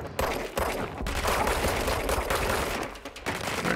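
Rapid gunfire from a handgun in the action video game Control, with shots cracking loud and close in quick bursts and short pauses, over a dense layer of game effects and no talk.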